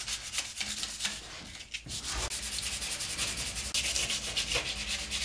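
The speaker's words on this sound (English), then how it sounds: "So now I've got to sand that down and get them smooth again." Steady rhythmic sanding strokes rubbing across a primed metal bicycle frame, a close, continuous abrasive scrape with short pauses between passes.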